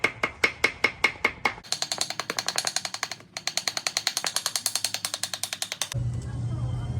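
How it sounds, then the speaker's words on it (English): Rapid metallic taps of a ball peen hammer on gasket paper, evenly spaced and close by, continuing steadily for several seconds before giving way to a low rumbling noise. "and just slowly hammer around"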